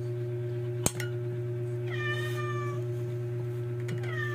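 A cat meows a couple of times, short mid-distance cries over a constant electrical hum, with a sharp click just before.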